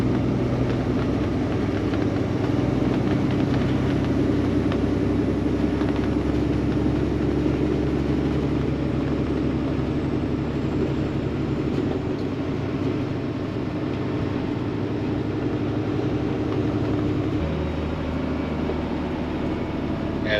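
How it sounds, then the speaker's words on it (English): A truck engine drones steadily under Jake braking while downshifting on a downhill descent, a loud continuous low rumble with no talk. "it's using the Jake brake and it's downshifting at the same time"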